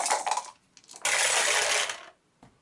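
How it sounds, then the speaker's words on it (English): Four dice rolled in a tabletop game of casual poker, a short clatter of plastic cubes followed by a longer rattling tumble across a surface, then a brief final click, close and fairly loud. "And he's going to roll 4 dice"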